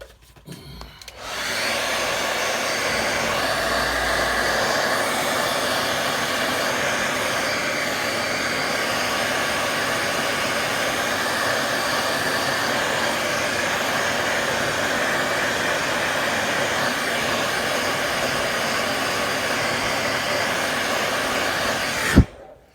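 A hair dryer blowing on a watercolour painting runs loud and steady for about twenty seconds after a brief start-up, then cuts off abruptly, with no talking over it.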